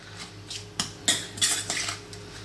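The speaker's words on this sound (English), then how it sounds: "We're going to give that a mix" Metal utensils clink and scrape against a bowl while tossing a carrot ginger salad with chopped chili, giving several distinct, close clatters spaced irregularly over a soft background.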